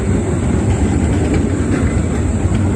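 A tram rolls past on a Prague street at night during the Christmas season, a loud, close, continuous rumble of wheels on rails with faint clicking and hiss holding steady throughout.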